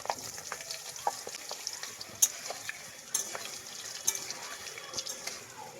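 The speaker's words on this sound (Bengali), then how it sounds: "জিরেটা একটু ভাজা ভাজা হয়ে যাওয়ার সাথে সাথেই দিয়ে দেবো কেটে রাখা আলু। আলুটা 1 মিনিট মতো ভাজবো" Cut potatoes hit hot mustard oil with black cumin in a pan, giving a soft, steady sizzle, with occasional stirring clinks and scrapes breaking through at close range.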